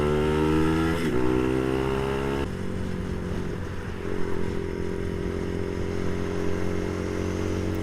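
A Brixton BX 125 X motorcycle rides at speed, its small engine holding a steady buzzing tone with a gear change near two and a half seconds, over constant wind and road rush.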